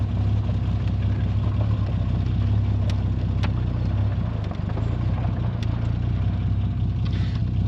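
1971 Triumph Vitesse classic car engine running low and steady while reversing slowly over gravel, a constant rumbling hum with faint crunches and clicks, no talking.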